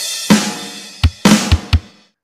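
A drum kit plays a standard-tempo beat: a kick with crash opens, then separate hits and another kick-crash, followed by two quick snare or kick strikes. Each hit is loud and close, with ringing cymbal decay and no talk.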